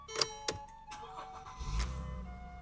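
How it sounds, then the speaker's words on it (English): The engine of a 2012 Mercedes GLK350 starts: a couple of sharp clicks and chimes, then a low rumble rises as the motor catches and settles into a steady idle nearby. "let's go ahead and start the car again"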